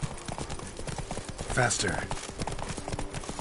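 Horse hooves clip-clop steadily on a road in the video game The Witcher 3, a close rhythmic trot under music and voices, with someone speaking briefly partway through.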